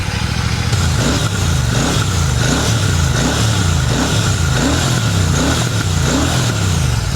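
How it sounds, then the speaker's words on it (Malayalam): Royal Enfield Classic 650 twin with a 270-degree firing order, its exhaust throbbing in a steady uneven loping beat, loud and close, with engine note held throughout and no voices. "എൻ്റെ എക്സോസ്റ്റ് ആ 270 ഡിഗ്രി ഫയറിംഗ് ഓർഡർ നിങ്ങളൊന്ന് കേട്ട് നോക്ക്"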